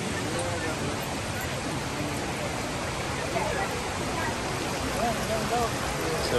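Amicalola Creek rushing past steadily on a rainy day, a constant broadband wash of flowing water close by, with voices faintly over it.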